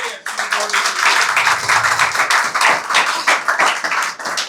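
A church congregation claps loudly in sustained applause, many hands overlapping into a dense, continuous wash of claps that fades slightly at the end.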